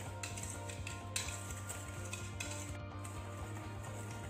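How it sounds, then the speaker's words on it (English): Sugar being stirred into an egg mixture for fudgy walnut chocolate brownies gives a steady, rhythmic clinking of utensil against bowl, fairly quiet, with a low background hum. "So while we are mixing this sugar and the egg mixture"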